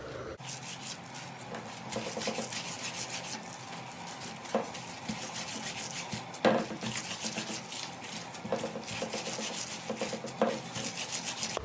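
Hands knead and squeeze a köfte (Turkish meatball) mixture, a continuous close squelching and rubbing with soft wet slaps at irregular intervals.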